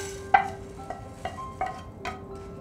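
Urad dal dry roasting in a pan, stirred with a spatula: a handful of close, dry scraping strokes spaced roughly every half second, with the lentils rattling against the metal.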